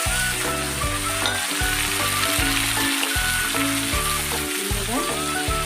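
Chopped potatoes tossed into hot oil with already-browned onions give a continuous, loud sizzle that carries under steady rhythmic background music, with no talking.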